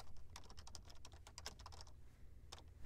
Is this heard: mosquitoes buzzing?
no